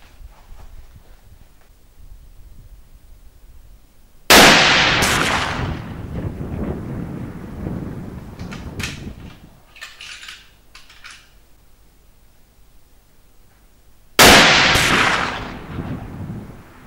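Two loud, sharp rifle shots from a Savage Bear Hunter in .338 Winchester Magnum, spaced about ten seconds apart, each with a long booming echo that fades out, and quiet outdoor background in between.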